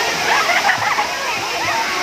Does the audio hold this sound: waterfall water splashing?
yes